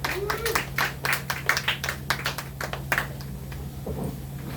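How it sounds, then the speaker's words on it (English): An audience at an underground comedy show claps to welcome a comedian to the stage, scattered sharp hand claps that swell briefly and then thin out, with a low steady hum underneath. "Start clapping for J.P. Allen"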